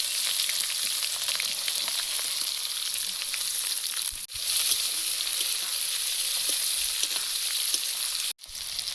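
Whole garam masala, bay leaf, cumin seeds and chopped onion fry for chicken kasa, a loud continuous crackling sizzle throughout with a couple of brief clatters of a utensil.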